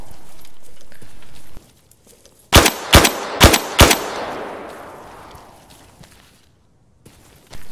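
Four loud, close, evenly spaced shots from a 7.62 caliber Scar H rifle in the video game Arma 3, each followed by a long fading echo, no talking.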